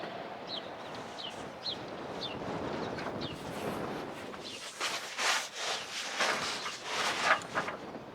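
Outdoor wind blows steadily during an RV solar panel installation, with broadband rushing noise and stronger gusts later on, joined by a few faint high chirps.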